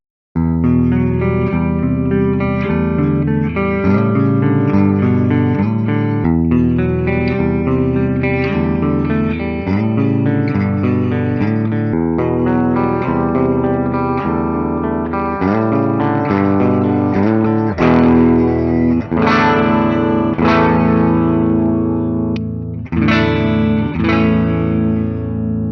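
Gibson Flying V electric guitar with hot ceramic pickups played through a clean tone, with sustained chords and picked notes ringing continuously at a steady, fairly loud level, brighter strummed accents near the end, and no voices.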